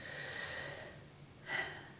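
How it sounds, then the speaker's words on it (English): A slow exhale followed by a breath drawn back in, two soft airy breathy sounds close up and alone, the first longer, the second a short sharper intake near the end. "you can feel somebody going, breathing on you. And then breathing back in."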